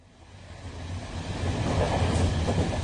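A train rolling along the rails on the way to Newcastle, a steady low rumble and broadband roar that swells gradually louder and continues without pause, with no voices over it.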